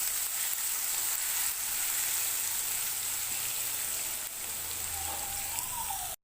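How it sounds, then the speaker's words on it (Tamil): Crushed garlic frying in oil in a pan, a loud, even, continuous sizzle close up that carries without a break and cuts off abruptly at the end. "இதை நல்லா வதக்கிக்கலாம் இந்த எண்ணெயில்."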